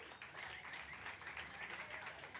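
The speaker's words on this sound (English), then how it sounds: "Let's give them a warm round of applause" An audience at the ACT Tributes 2025 awards ceremony gives sustained applause, a soft, even patter of many hands clapping that sounds fairly distant and quiet.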